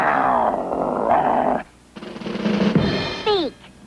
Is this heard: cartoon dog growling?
yes